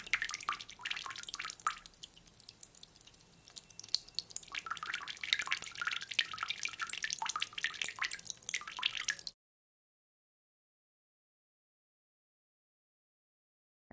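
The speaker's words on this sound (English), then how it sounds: "use a colander basket or cheesecloth to separate the juice from the mixture" Blended onion and garlic juice straining through a colander, a steady close patter of drips and wet squishing for about nine seconds, then silence.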